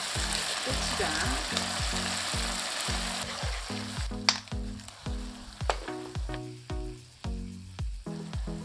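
A sweet peanut chicken glaze with onion, garlic, soy sauce and gochujang sizzles and bubbles steadily in a pan as seasonings are stirred in, under a bouncy background music track.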